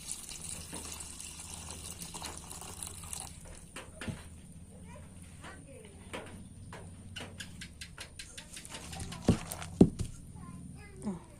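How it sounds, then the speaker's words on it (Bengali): Water poured over soybeans in a bowl to soak them, a gushing pour at the start followed by quieter splashes and clinks, with a faint steady hum and a few sharp knocks near the end. "তো এখন আমি সয়াবিনগুলোকে জল দিয়ে আমি ভিজিয়ে রাখবো।"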